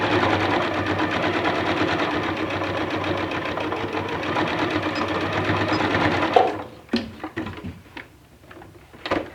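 A sewing machine stitches a zipper into a cosmetic bag using a zipper foot, running steadily and loudly for about six seconds with a fast, even whir, then stopping and leaving a few short clicks and handling knocks.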